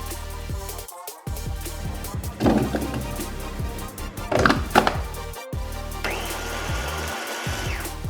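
A kitchen blender chops onion, garlic and ginger for Korean kimchi salad, its motor whirring loudly in several bursts with short stops and restarts, the pitch rising and straining as the blades grind.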